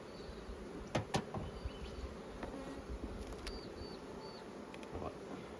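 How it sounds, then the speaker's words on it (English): Dense, steady buzzing from many honey bees at the front of a strong hive during a nectar flow, heard close up, with occasional louder passes of individual bees near the listener. "Lots of bees."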